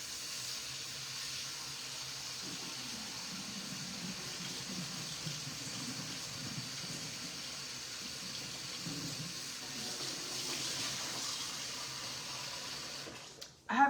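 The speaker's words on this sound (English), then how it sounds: "Let me rinse this off one more time." Water runs steadily from a kitchen tap as something is rinsed under it, a continuous close hiss and splash that holds evenly throughout and ends in a brief clatter.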